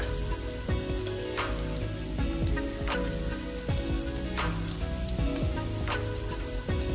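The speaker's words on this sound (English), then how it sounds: "I've got my onions frying" Steady sizzling and crackling of onions frying in a pan, continuous throughout with scattered pops and faint clinks.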